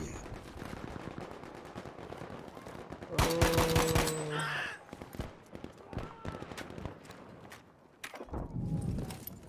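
Rapid automatic gunfire rattles in the Battlefield V video game, bursts of shots and a loud mechanical clatter amid game effects, with a player talking over it.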